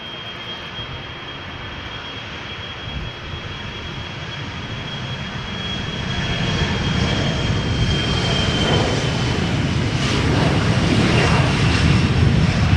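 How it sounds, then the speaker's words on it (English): An SAS CRJ900 regional jet bound for Stockholm takes off at Schiphol's Polderbaan, a broad, steady engine roar that swells louder partway through and holds close and strong, with a thin whine riding over it. "is SAS, a CRJ9 going to Stockholm."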